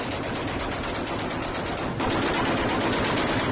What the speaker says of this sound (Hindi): तड़तड़ाहट आप सुन रहे हैं, गोलियों की आवाज रात भर पाकिस्तान और अफगानिस्तान की सीमा पर आती रही है